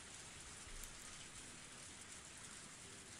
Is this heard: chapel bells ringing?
no